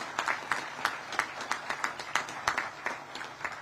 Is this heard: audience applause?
yes